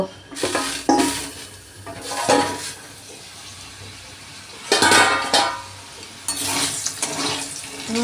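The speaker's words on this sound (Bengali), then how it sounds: "আলু ভাজা হয়ে গেছে" Potatoes fry in a pan on a gas stove, with bursts of bright sizzling and clattering stirring that come and go, loud in short spells against a quieter background with no talking.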